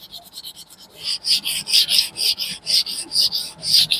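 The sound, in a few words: sandpaper sanding clay frame edges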